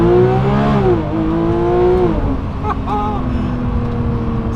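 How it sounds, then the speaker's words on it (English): A Porsche 992.2 GT3 Touring makes an uphill launch-control start, its engine note climbing hard through the revs before a brief drop at the shift and a renewed rising pull, loud and close from inside the car. "Should we do a quick launch control? Yeah, why not? Uphill launch control."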